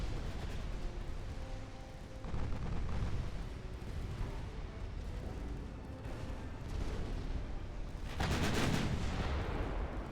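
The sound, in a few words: battleship gunfire in the video game Ultimate Admiral: Dreadnoughts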